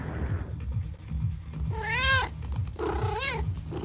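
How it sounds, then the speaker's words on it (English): A cat meows twice in loud, drawn-out, rising and falling cries, close by, following a stretch of low rumbling background noise. "Whose cat is that?"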